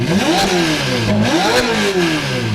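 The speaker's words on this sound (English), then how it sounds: "with the Novitec exhaust on a Ferrari F8, it sounds just as good as a 458" A Ferrari F8 with a Novitec exhaust revs hard, its pitch climbing and falling twice in quick succession, loud and close with a steady engine roar underneath.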